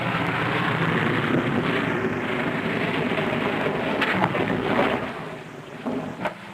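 A ski-equipped plane comes in to land on ice in Antarctica on one engine, a steady loud drone of engine and wind roar that holds for several seconds before easing, with a few sharp bumps near the end.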